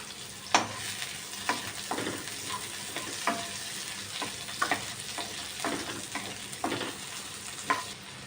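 Thinly sliced onions fry in hot oil with whole spices, namely cinnamon, cloves and cardamom, for a soya mint pulao, a steady sizzle punctuated by regular spoon scrapes and stirs.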